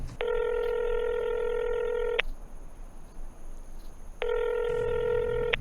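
A telephone rings with no answer in a radio drama, two long electronic ring tones separated by a pause of near silence, clear and steady over a faint hiss.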